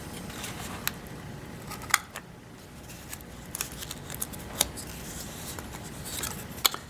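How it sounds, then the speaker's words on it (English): Scissors snip through thin cardboard in a quiet room, giving a handful of sharp, brief cuts spaced irregularly over a soft background hiss. "I'm just going to use scissors. It's thin cardboard, so it'll be pretty easy."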